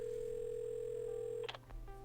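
Telephone dial tone in the video game Assemble with Care, a steady, clean electronic hum that holds for about a second and a half, then cuts off into a click and faint handset clatter.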